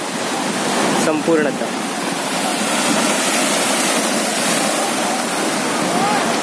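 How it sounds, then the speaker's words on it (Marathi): Sea waves wash onto the shore at Harihareshwar as a loud, continuous broadband roar of surf close by, with a voice briefly speaking over it. "ही संपूर्ण समुद्र सपाटी आहे, हरिहरेश्वरचा समुद्र किनारा"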